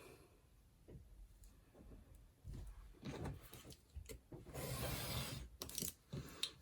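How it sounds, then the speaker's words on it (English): A blade slices a sliver off a handmade folio cover, producing quiet scraping and cutting strokes in irregular bursts, with a louder rasping pass near the end and no talk. "we want to cut off a sliver over there"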